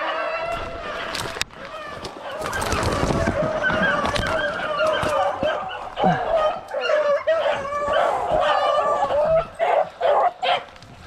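Hunting dogs on a rainy-day rabbit hunt bark, yip and whine excitedly nearby in an overlapping chorus, with a voice talking among them.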